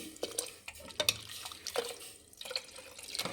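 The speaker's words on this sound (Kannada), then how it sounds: "ಒಂದು ಸ್ವಲ್ಪ ನೀರು ಹಾಕ್ಕೊಳ್ಳಿ." Water poured into a cooking pan while making Bele Saaru, a lentil soup, with curry leaves: an uneven splashing trickle with small drips and bursts over about three seconds, moderately close and fairly soft, with no voices.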